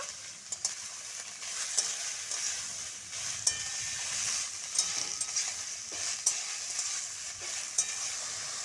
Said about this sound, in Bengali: পেঁয়াজের সঙ্গে শাপলাগুলো আমি মিশিয়ে নেব